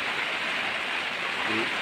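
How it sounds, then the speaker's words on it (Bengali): Heavy rain with strong wind at a riverbank campsite during a rainy-day camping trip, a steady dense hiss of rainfall filling the scene continuously with no pauses and no talk. "প্রচন্ড পরিমাণে বৃষ্টি, প্রচুর বাতাস, বৃষ্টিটা ঠিক আছে ছিল কিন্তু বাতাস অনেক।"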